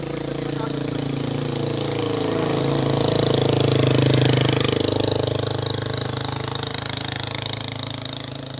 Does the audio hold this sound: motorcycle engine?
yes